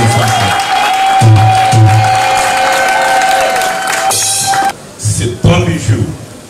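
Audience at an inauguration ceremony in Kalemie clapping and cheering under a public-address voice and sustained tones, the applause loud at first, then breaking into scattered claps and pauses.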